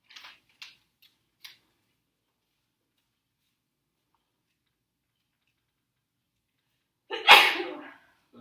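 A single sharp human sneeze bursts out loudly near the end in a classroom, after a few faint scattered ticks and clicks in near-silence.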